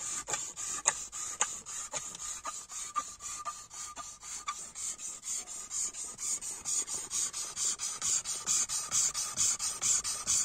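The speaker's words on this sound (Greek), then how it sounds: "Σταθεροποιούμε ένα ξερό ξύλο με το πόδι μας και τρίβουμε πάνω του το σύρμα με παλινδρομικές κινήσεις." Wire rubbed back and forth over dry wood held underfoot makes a steady rhythmic rasping scrape, close and fairly quiet, each stroke repeating with a faint squeal and no one speaking.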